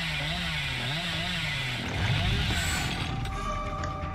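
A chainsaw revs in the horror game Dead by Daylight, a steady buzzing drone that rises and falls in pitch, swelling louder midway and holding over game music and ambience.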